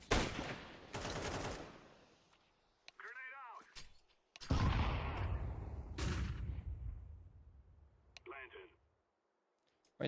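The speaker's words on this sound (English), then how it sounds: "A random nade." A grenade and gunfire in a competitive shooter video game: several sharp, loud bursts of shots and an explosion, separated by short quiet gaps, with brief voice-like sounds between them.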